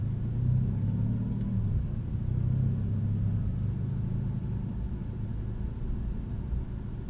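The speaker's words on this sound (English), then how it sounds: "So just drive at 30 like normal." Car driving steadily at about 30 mph, heard from inside the cabin as a constant low engine and road rumble with no talking.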